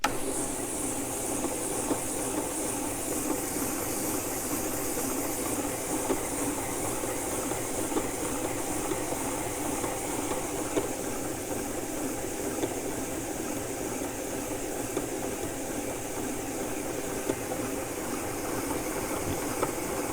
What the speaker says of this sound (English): You can hear this machine is a lot quieter than the machine I use for grinding